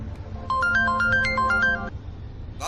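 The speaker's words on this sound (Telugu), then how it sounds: "ఈ టైంలో ఫోన్ ఎవరు?" A mobile phone ringtone plays a bright, repeating electronic melody for about a second and a half, close and clear over a low room hum, then cuts off abruptly; a short noisy burst follows at the end.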